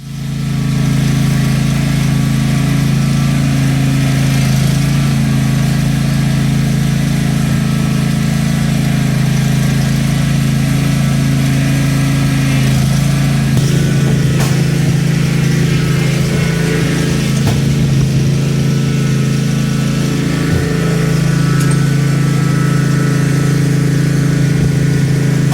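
A Cub Cadet XT2 riding lawnmower with a hydrostatic transmission idles steadily at close range, its engine giving a constant low rumble and hum with mild vibration, and no voices over it.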